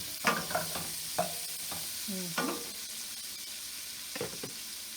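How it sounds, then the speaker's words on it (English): Onions sautéing in a pan give a steady, close sizzle broken by several scraping stirs of a utensil. "we're going to put our onions in and let those saute very nicely"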